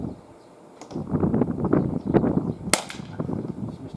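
Single sharp crack of an Umarex HDR 50 air pistol fired at a tin target 12.5 metres away, a bright snapping report with a quick metallic tail, standing out clearly against quiet outdoor background.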